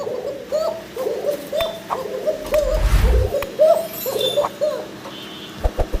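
Pigeons cooing in a loft, with repeated soft throaty coos in a steady rhythm, several birds overlapping close by, and a brief low rumble and a few sharp knocks in the background.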